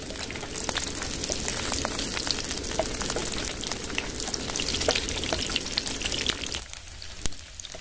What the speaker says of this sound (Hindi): तेल गरम हो गया, डाल देंगे एक एक करके पनीर फ्राई होने के लिए